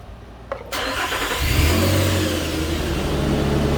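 A car engine turns over and catches after its fault codes are cleared, a quick crank giving way to a steady, loud idle with a brief rev, close by and with no talking.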